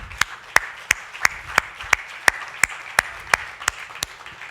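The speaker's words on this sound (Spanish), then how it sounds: "Dale el aplauso al Señor" Slow, rhythmic unison clapping from a church congregation during a worship service, about a dozen evenly spaced sharp claps over soft background murmur.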